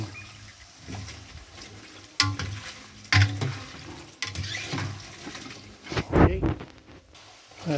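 Pork rind chicharon crackling and sizzling in hot oil as it is stirred, with scraping stir strokes and bubbling bursts that swell and fade, growing loudest near the end.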